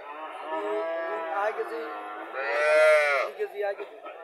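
A Haryana cow moos close by at a cattle market, two long low calls one after another, the second louder and stretched out.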